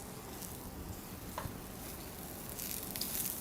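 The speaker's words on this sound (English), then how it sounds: "we're going to let these sear just slightly, these mushrooms" Mushrooms and shallots searing in oil in a pan over medium heat while being stirred, giving a faint, steady sizzle with a few soft stirring clicks throughout.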